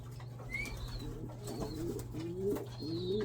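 Pigeons coo softly in a rooftop pigeon loft, several low, rolling calls overlapping at a moderate distance over a steady background hum, with faint higher chirps and no talking.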